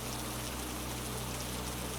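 Steady soft rain falling in an unbroken hiss, constant and even throughout with no breaks or other sounds, a low hum underneath.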